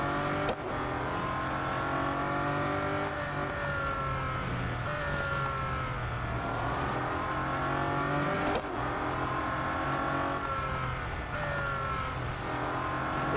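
Mazda 787B race car in the Real Racing 3 video game, its engine screaming loud and close through repeated rising revs and gear shifts, a sustained high-pitched rotary wail with brief drops between pulls.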